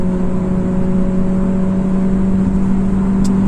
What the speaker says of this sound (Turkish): Tekrar dik gazlatıyorum.